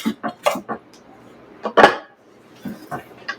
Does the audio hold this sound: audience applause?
no